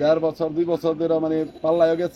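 Someone talks throughout while pigeons coo in soft, repeated low calls beneath his voice.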